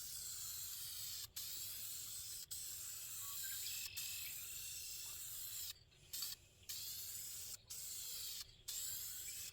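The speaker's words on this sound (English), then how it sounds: "I don't like the tips on these cans of paint. They don't have a good fan." Spray paint hisses from an aerosol can onto a rusty mower deck in a shop, in steady sustained bursts separated by brief pauses, close and alone.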